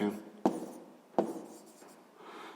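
A pen scratches numbers onto paper during a sixth-grade maths exercise, two short sharp strokes and some lighter scribbling, close and fairly quiet.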